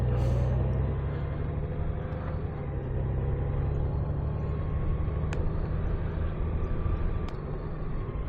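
A Honda motorcycle's engine drones low and steady as it is put into gear and rides off, with a continuous rumble and wind roar that stays loud throughout.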